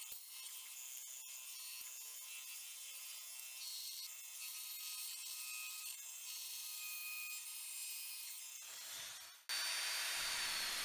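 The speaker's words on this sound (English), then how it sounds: "With the pieces cut out, I'm just finishing it off with the finger sander" A finger sander smoothing freshly cut wooden pieces for a tensegrity plinth, a quiet, even high-pitched whine with light rubbing, steady for about nine seconds before it cuts off and a louder hiss takes over.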